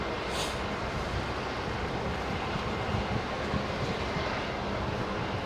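Aircraft taxiing at Heathrow Airport at night, a steady broadband engine roar mixed with wind noise on the microphone, continuous and fairly loud with no speech.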